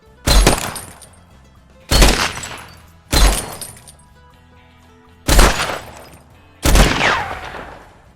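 Five loud, close gunshots ring out one at a time at irregular intervals of one to two seconds during video game target practice, each a sharp crack with a ringing tail that fades before the next.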